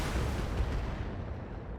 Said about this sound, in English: Give them some missiles.